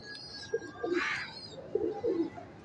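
Pigeons in a breeding setup coo softly in a few short, rounded phrases, close but quiet, with a faint higher hiss in the background.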